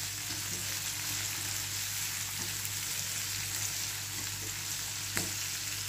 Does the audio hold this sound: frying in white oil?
yes